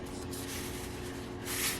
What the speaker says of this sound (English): now, I have this in a spray bottle so that I can spray